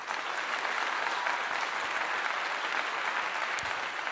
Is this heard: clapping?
yes